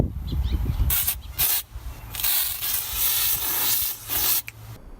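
Several bursts of aerosol spray hiss loudly and close, separated by brief pauses, with a low hum underneath.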